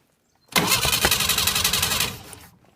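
A buggy engine cranks on its start button and catches almost at once, running loud and close with a rough, pulsing roar for about two seconds before it cuts off.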